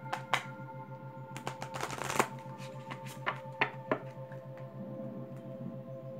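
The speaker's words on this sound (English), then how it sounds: "Getting better at shuffling these." Large fairy tarot cards being shuffled by hand, a quiet riffling patter with a few sharper snaps and a dense flurry midway, close and alone over a steady low hum.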